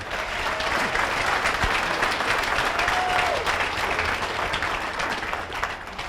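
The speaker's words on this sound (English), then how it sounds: "a round of applause for John Sine" An award-ceremony audience at a motorsport hall of fame induction applauds steadily, a dense, even wash of clapping throughout with no talk over it.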